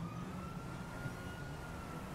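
An emergency vehicle siren in Grand Theft Auto V holds a faint, steady tone over low rumbling traffic noise for a couple of seconds.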